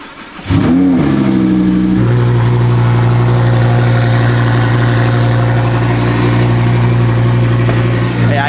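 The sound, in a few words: cold start of a twin turbo Lamborghini race car engine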